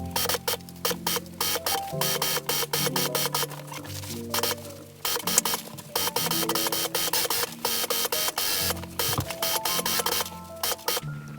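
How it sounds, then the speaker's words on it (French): A sewing machine stitches closed the seam around a newborn baby cocoon, rapid mechanical clatter running in bursts with short pauses between, close and clear with no talking. "Fermez l'ouverture à la machine à coudre tout autour"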